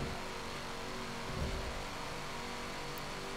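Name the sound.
racing car engine in Forza video game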